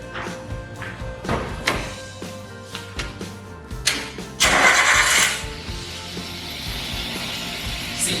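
An EFI car engine is started during a tune-up: a few taps and thumps, then a loud surge of cranking and firing that settles into a steady, slightly uneven idle, close and fairly loud.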